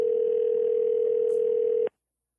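A telephone line tone plays steadily as a continuous single-pitched hum for about two seconds, loud and alone, then cuts off abruptly into silence.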